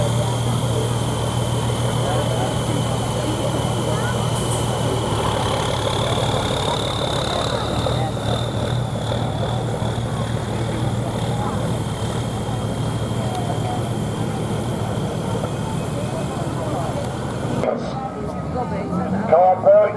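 A pulling tractor runs at a tractor pull at the Heddington & Stockley rally, with a steady loud engine drone and a rising whine of building boost, and an announcer talking over it.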